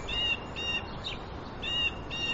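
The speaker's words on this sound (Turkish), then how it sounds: "Kuş sesi bu." A bird chirps inside a fireplace chimney of a villa, giving short high repeated calls in a few bursts, fairly faint and alone, with no talk over them.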